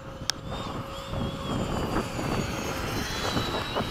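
A fast low pass by a jet aircraft at an airfield where a MiG-21 chases an F-15, a rising broadband roar building steadily from the start with a faint whine above it.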